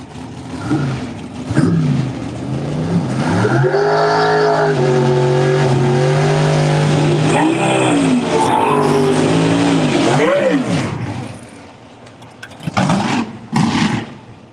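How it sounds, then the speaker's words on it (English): Extreme Pro Stock drag racing cars at Galot Motorsports Park, loud engines revving and holding a long sustained roar before dropping off, with further bursts of revving near the end. "Couple Extreme Pro Stock cars."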